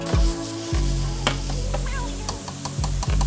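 Pork mince frying with half an onion in a pan, a steady close sizzle with bursts of stirring and scraping, several deep thumps as the pan is moved, no voices.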